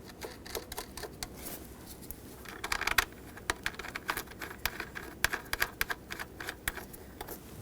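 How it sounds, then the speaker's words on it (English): Mounting nuts clink and tap onto the valve cover studs of a 2008-2020 Dodge Grand Caravan. The small metallic clicks come close and irregular over about seven seconds, with no one speaking. "Now let's put these mounting nuts on."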